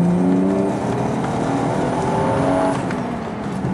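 A Toyota Chaser TRD engine revs steadily under acceleration, its tone climbing in pitch as it pulls hard and stays loud and close, with no talk over it.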